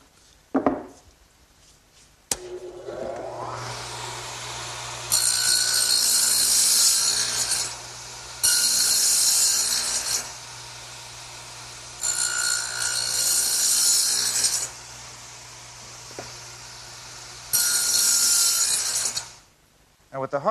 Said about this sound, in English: while I have the dado head set up in the radial arm, I want to make this end piece for my tool storage area